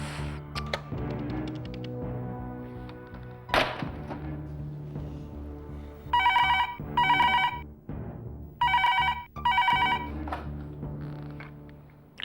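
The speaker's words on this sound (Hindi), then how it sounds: "क्या हुआ दक्षत, फोन उठ।" A telephone rings in bursts of bright electronic trills, two pairs of rings, loud and near. Soft thumps and indoor background sounds come before the rings.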